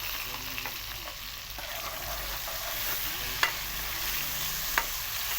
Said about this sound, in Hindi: और हल्का सा इसको फ्राई करेंगे।